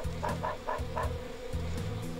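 Bees buzzing as they chase a dog in the video game Dog's Life, a steady droning hum with repeated brief higher bursts layered over it, fairly close and continuous with no talking.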